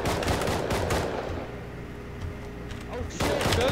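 Gunfire in the survival video game Rust, loud rapid bursts of shots crackling almost continuously, pausing briefly in the middle, with excited voices talking over it.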